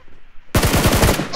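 Rapid automatic gunfire from a mobile shooting game played on an iPad Mini 6 starts abruptly after half a second of quiet and rattles on loud and steady to the end.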